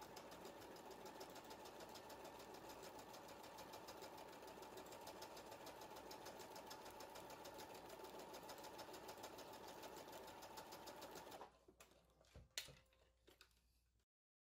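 A Brother XR3340 computerized sewing and quilting machine stitches a decorative heart pattern with a fast, steady mechanical chatter for about eleven seconds. It then stops abruptly, leaving a few faint clicks and handling sounds.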